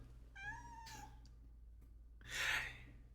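A cat in the video game Wanted: Dead lets out a clear, rising-then-falling meow, followed after a pause by a breathy, hissing exhale, both close and alone over a low steady hum.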